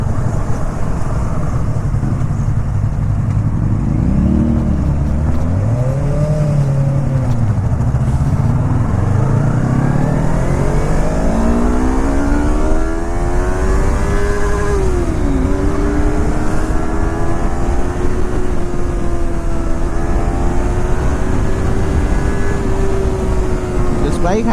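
A Kawasaki ZX-4R four-cylinder motorcycle engine revs loudly on a road ride, its pitch swooping up and down through blips before climbing into a long, steady high-rpm wail with constant wind noise.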